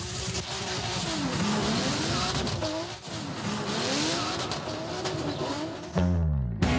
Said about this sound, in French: Il pilote ici une voiture japonaise préparée pour l'occasion.